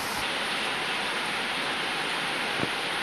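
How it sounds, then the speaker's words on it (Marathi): Rain falls steadily outside, a soft, even, continuous patter and hiss heard alone at a low level, with one faint dull knock near the end. "बाहेर पावसाचा खूप छान आवाज येतो आहे।"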